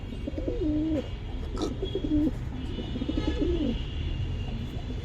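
Pigeon cooing while sitting in a cage, several soft repeated coos close by over a low background rumble.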